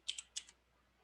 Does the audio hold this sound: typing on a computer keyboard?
yes